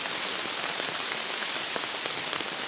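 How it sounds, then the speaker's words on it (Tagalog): Steady rain falls on a mountain in wet-season weather, a dense continuous hiss of drops striking surfaces, close and even throughout with no voices. "Ulan talaga?"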